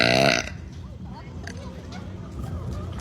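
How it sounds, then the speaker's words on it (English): A loud, brief burp opens the passage, followed by quieter background chatter and ambient noise. "Top 5 Best Times to Burp."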